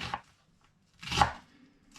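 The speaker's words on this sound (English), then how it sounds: "So basically I'm dicing it." A knife dicing chicken on a chopping board for a slow-cooker curry, with two close, crisp chops about a second apart and quiet between them.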